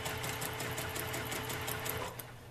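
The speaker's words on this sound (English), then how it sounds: "move over to my position on the other side of the machine, and turn down the needle speed just a little bit, and try again." A long-arm quilting machine stitches at a slightly reduced needle speed, a fast, even mechanical rattle of needle strokes running close and steady, easing off near the end.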